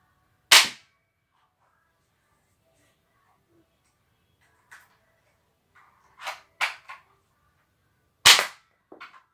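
Shots from a rifle firing small bullets: one sharp crack, a faint pop, then a cluster of three quick cracks and two more near the end, spaced irregularly against a quiet background.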